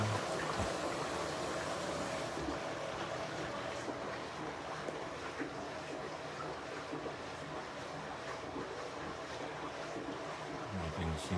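A Whirlpool Duet washing machine runs a rinse and drain cycle with steady sloshing, rushing water and a continuous motor hum, fairly even in level and close by, with no talking.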